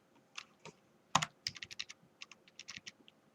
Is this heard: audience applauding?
no